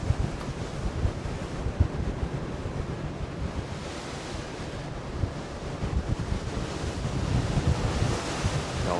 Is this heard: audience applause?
no